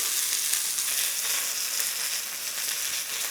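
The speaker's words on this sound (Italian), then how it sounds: "Incominciamo adesso una rosolata laterale, così." Pork fillet with garlic sears in a hot pan, browning on its side with a steady, dense sizzle and crackle that holds evenly throughout, close and fairly loud, with no talking.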